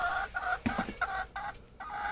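Backyard chickens cluck repeatedly in a coop, close by, with short overlapping calls in an uneven rhythm and a brief squawk in the middle, while other animals stir faintly.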